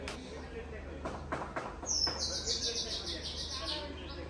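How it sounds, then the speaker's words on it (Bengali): Birds chirp and tweet in bright, quick repeated calls near a house where workers are busy, with soft background commotion and a few sharp knocks underneath. "পাখির কিচিরমিচির শব্দ"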